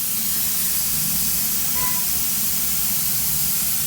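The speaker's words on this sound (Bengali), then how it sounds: "শুধু এটাই না, এখান থেকে গ্যাস লিক করতেছে।" Gas escaping from a leaking line under an open manhole in the middle of a main road, a loud, steady, broadband hiss that never lets up, heard up close.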